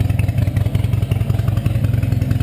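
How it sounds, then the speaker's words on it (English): Harley-Davidson 2013 Sportster 72 motorcycle engine running steadily at idle, a loud close-up rhythmic lumpy thump with mechanical clatter, no voices. "Engine's running."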